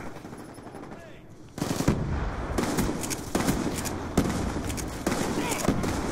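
Repeated shotgun blasts from Call of Duty: Black Ops 2 multiplayer, five loud booming shots spaced roughly a second apart over steady game ambience, starting after a quieter opening stretch.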